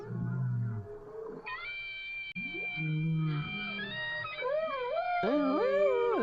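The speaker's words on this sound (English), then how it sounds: "The whale is like trying to match the clarinet pitch right there, and as this duet goes along, he gets better at it." A whale sings long, moaning tonal calls that rise and bend in pitch, answered by sustained clarinet notes in a live duet, both clear and full with no speech.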